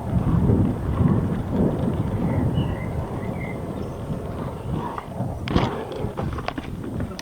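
Gusty wind buffets the microphone on a mountain bike trail, a continuous low rumble that stays fairly loud throughout, with a few faint knocks near the end and no talking.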